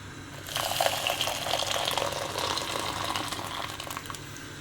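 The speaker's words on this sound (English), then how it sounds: "we can chuck the water in the pan." Water is poured from a tap or jug into a cooking pan for boiling rice, a steady splashing gush that starts after a brief pause and runs on close by without speech.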